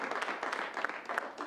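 Sparse, scattered clapping from a small audience at an improv comedy show, thin and uneven rather than a full ovation, lasting a moment and then trailing off.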